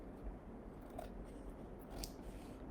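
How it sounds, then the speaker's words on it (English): Quiet snipping of scissors cutting through transfer paper, a few soft cuts in a row, close up with no talking. "Let me see if I can get my scissors right down here."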